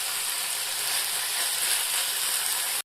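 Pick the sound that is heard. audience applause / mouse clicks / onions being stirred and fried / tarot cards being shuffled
onions being stirred and fried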